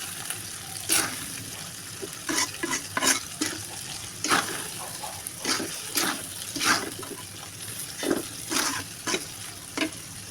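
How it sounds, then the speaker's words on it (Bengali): Cabbage and chicken fry in oil in a pan while being stirred, giving a low sizzle under repeated sharp scraping and clattering strokes of the spoon, close and fairly loud, with no voices. "আর একটু তেল দিয়ে দিব নাড়াচাড়া করে দেবো"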